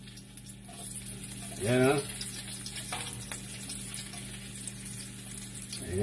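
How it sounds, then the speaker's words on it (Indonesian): Garlic sautéing in a hot pan for a sweet and sour sauce for lapu-lapu, a steady soft sizzle with a brief louder hiss as it cooks, under a voice. "Nagigisa na tayo ng sauce natin. Unahin muna natin itong bawang."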